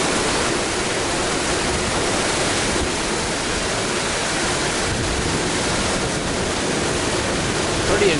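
Floodwater from the Missouri River roars steadily through a huge outlet tunnel at Oahe Dam, a loud, unbroken rushing wash heard up close with no pauses.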